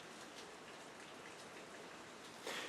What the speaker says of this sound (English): Oh, it's hailing now.